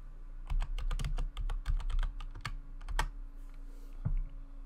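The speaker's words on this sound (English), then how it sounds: "I was typing a message" Rapid, irregular clacking of keys being typed on a computer keyboard, close and crisp, in quick bursts with short pauses and a low hum beneath.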